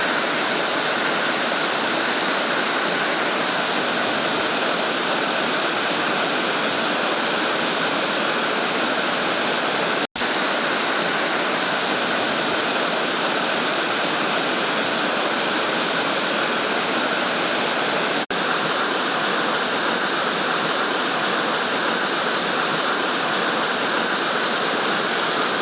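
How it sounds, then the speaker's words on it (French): The Bout du Monde waterfall roars in a steady, dense rush of falling water, loud and close, unbroken for the whole stretch apart from a single sharp click. "Donc nous sommes devant la cascade du bout du monde."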